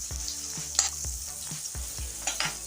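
Chopped onions frying in oil in a pan for spinach fry, with a steady sizzle under repeated stirring scrapes and a few sharper clinks, close and continuous.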